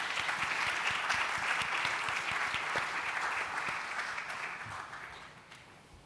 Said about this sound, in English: We need another big round of applause to the panelists and the moderator.